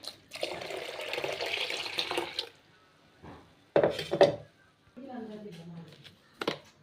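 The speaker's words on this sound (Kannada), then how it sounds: "ನೀರು ಹಾಕಿ" Water pours into a mixer jar of neer dosa batter, a steady splashing stream for about two seconds followed by short clinks and quieter splashes, with a voice speaking briefly in between.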